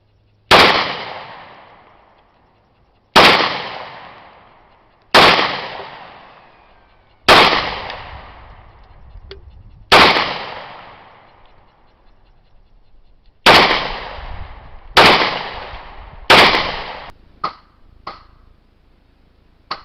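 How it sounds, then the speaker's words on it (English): Sharp single gunshots from a .40 caliber handgun firing hollow-point and full metal jacket rounds at a car alternator, about ten shots spaced a second or more apart, each echoing and decaying, with a few quicker ones near the end. "So now we're moving up to a 40 caliber handgun"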